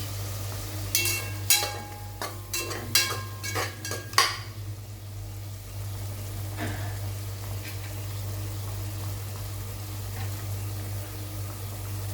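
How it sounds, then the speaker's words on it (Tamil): Vegetables for vegetable biryani are sautéed in a pan over a low sizzle, with a quick series of sharp utensil clinks and scrapes early on, then a steady quieter fry hiss and a constant low hum. "இது கொஞ்சம் பச்சை வாடை போகிற அளவுக்கு நம்ம வதக்கணும்."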